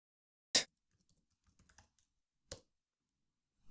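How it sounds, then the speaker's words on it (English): A few isolated keystrokes on a computer keyboard, with two loud, sharp clacks about two seconds apart and a scatter of faint, soft key taps between them. "By typing it like this"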